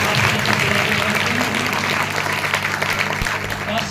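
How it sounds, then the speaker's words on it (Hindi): Congregation clapping loudly at a Christmas church service in India, continuous close applause from many hands holding a full, steady level with a low hum beneath. "एक बार फिर हम जोर से तालियां बजाकर"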